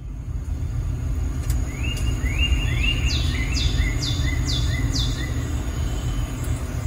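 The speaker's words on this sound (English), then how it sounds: "I'm going to start with Lively Forest" A 'Lively Forest' nature-sound recording played on a 2020 Hyundai Sonata: birds chirp and whistle in short repeated descending calls over a steady low rumbling ambience.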